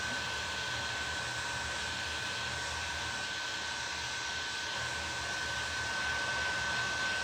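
Hair dryer blowing on painted thrifted decor, a steady, even whooshing hum with a thin whine, close and constant throughout with no talking.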